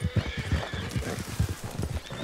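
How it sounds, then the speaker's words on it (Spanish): Horses gallop in the Red Dead Redemption 2 game world, with a steady run of rhythmic hoofbeats and a brief whinny at moderate loudness and no talk. "Bueno, al parecer eran caballos."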